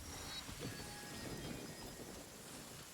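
Steady rain hissing across a Genshin Impact game scene, with a low rumble of thunder beneath it, continuous and fairly quiet without any voices.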